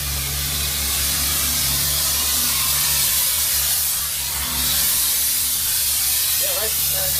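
A cutting torch burning off the frame bolts of a wrecked truck at a roadside crash site, a loud continuous roaring hiss held close for the whole stretch, with a steady low engine hum running beneath it.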